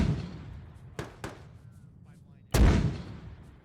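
Mortar rounds firing in ArmA 3, two sharp reports in quick succession followed by a heavy, booming launch that rolls out over a low rumble, with brief radio chatter faintly in between.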